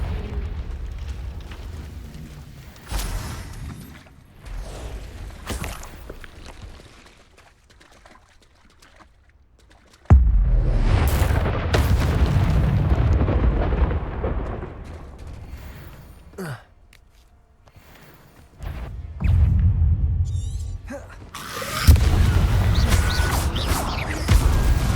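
Confringo explosive spell blasts from the Hogwarts Legacy video game, several loud bursts with roaring tails separated by quieter gaps, alone without speech.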